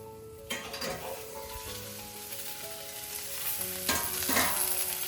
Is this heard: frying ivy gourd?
yes